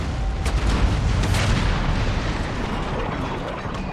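Galleon cannons fire in a naval battle in Empire: Total War, heavy booms rolling in over a dense, rumbling barrage of gunfire and explosions with no talk.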